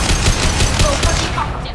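Rapid bursts of gunfire from the Mass Effect 2 Legendary Edition shooter, loud and dense with repeated shots across a short firefight.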